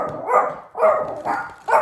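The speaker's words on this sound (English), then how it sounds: "it was a dog." A dog barking four times in a spaced, fairly even rhythm, each bark sharp and close with brief quiet gaps between, no talking over it.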